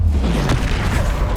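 Incendio fire spell cast in Hogwarts Legacy: a single loud, deep burst of flame that whooshes and booms across the short moment, heard alone without talk.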